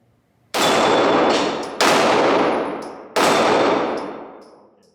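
Three loud, sharp pistol shots from a Beretta APX, spaced about a second and a half apart outdoors, each with a long ringing decay and faint metallic clangs between them; no talking.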